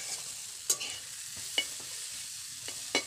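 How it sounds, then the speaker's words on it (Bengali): Food is stirred and fried in a pan over a low flame, with a soft steady sizzle and a few brief scraping clinks of the spoon. "এটাকে নেড়ে নেড়ে লাল লাল করে ভাজা করতে হবে"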